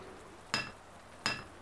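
A hammer strikes a coin twice to emboss it in Grim Legends: The Forsaken Bride, two sharp metallic clinks spaced under a second apart against a quiet background.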